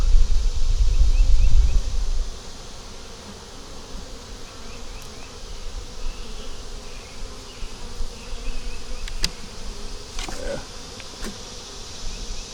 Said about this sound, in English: there's a wasp got on there, and those bees are just tearing these little buttocks up